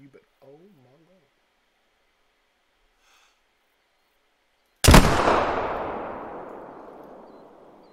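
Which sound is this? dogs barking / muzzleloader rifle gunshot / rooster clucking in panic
muzzleloader rifle gunshot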